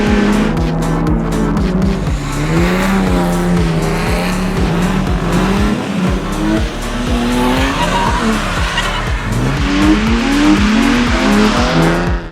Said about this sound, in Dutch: 2 bestuurders, 2 auto's en 1 pendulum effect